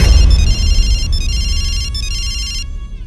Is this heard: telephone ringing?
yes